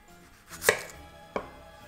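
A knife slicing an onion in half on a cutting board: two sharp chops, the first louder, close and alone.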